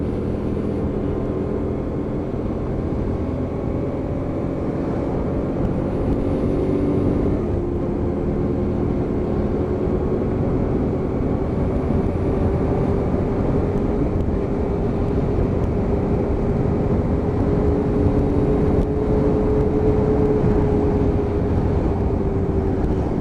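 A Hyosung GT125R motorcycle cruising at a steady 40, its engine holding a continuous, even drone with wind rush throughout, loud and close from the rider's position.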